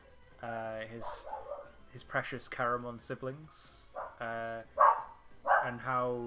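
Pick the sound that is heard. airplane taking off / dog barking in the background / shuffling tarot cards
dog barking in the background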